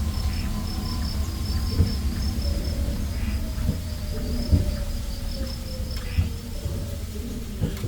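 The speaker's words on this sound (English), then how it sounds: "All set against a chorus of crickets." A dense chorus of crickets trills steadily through a nighttime forest on a wildlife safari route, a constant high insect drone with a low rumbling bed beneath and a few soft thumps, no voices.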